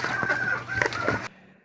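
Laying hens cluck in a close, busy chorus, with overlapping short calls and a few sustained tones, before the sound cuts off abruptly.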